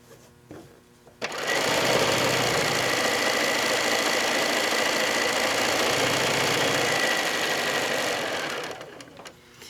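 A sewing machine stitching a quilt seam on layer-cake fabric blocks, a fast even mechanical whir that starts abruptly, runs steadily for about seven seconds, then winds down and stops.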